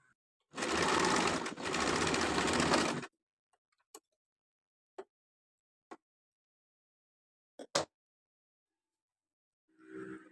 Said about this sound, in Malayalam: രണ്ട് സ്ലീവും നമ്മൾ ഇതുപോലെ സ്റ്റിച്ച് ചെയ്തെടുക്കുന്നുണ്ട്